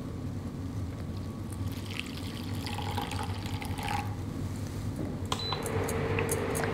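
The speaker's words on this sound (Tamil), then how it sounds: "ஒரு சிறிய துண்டு பட்டை இதோட நீர் விட்டு கொதிக்க வைக்கணும்." Water is poured into a cooking pot holding apple pieces and a small piece of cinnamon bark, giving a steady, close splashing pour that runs for several seconds.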